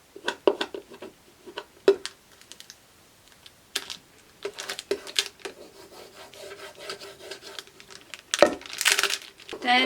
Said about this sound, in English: you can start peeling it back off of the project